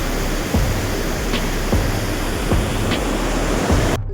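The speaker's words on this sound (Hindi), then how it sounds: "पानी के प्रेशर से बह रहा है नीचे, मलाना नदी का पानी" The Malana river rushes downstream under pressure, a loud, continuous broadband roar of churning water heard close and unbroken throughout, with no talk.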